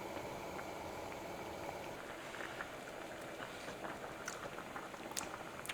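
Soup with noodles simmering in a pot, a steady low bubbling hiss with faint pops, quiet and continuous throughout.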